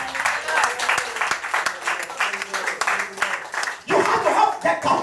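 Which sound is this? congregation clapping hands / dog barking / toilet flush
congregation clapping hands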